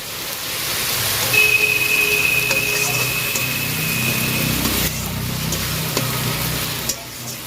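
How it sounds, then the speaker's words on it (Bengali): Water poured into spices frying in a pan for mutton and liver curry gives a steady, loud sizzle that holds for several seconds, with a thin hiss rising over it and a brief stir near the end. "এর মধ্যে আমি একটু জল দিয়ে দিচ্ছি যাতে মশলাটা পুড়ে না যায় তার জন্য"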